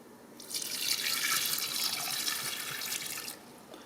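Water poured from a container into an off-grid manual laundry washing bucket, a splashing, gurgling stream rising in after a moment and running steadily for about three seconds before stopping, fairly close and alone.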